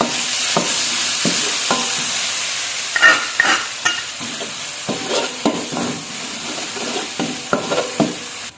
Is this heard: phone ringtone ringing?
no